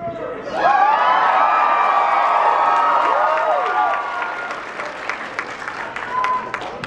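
Loud applause and cheering from a crowd, with whoops and shouts over the clapping, gradually thinning out toward the end.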